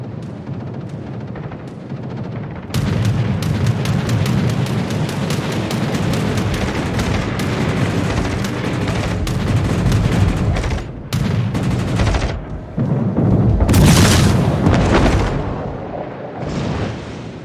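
Naval gunfire from battleship turrets and shell impacts in World of Warships, a dense, sustained barrage of booming salvos and explosions, loud and continuous with brief lulls, no voices.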